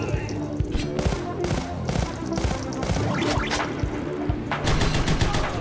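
Sustained rapid gunfire from the Huntdown video game, with dense overlapping bursts and shots that fill the whole stretch at a loud, constant level, heard without speech.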